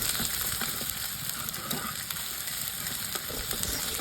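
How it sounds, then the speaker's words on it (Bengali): Egg being stir-fried with garlic and ginger paste in a pan for a vegetable dal, giving a steady, close sizzle throughout with faint scraping from stirring and no talk. "তো এবার ডিমটাকে সব কিছুর সাথে নাড়াচাড়া করে ভেজে নিব।"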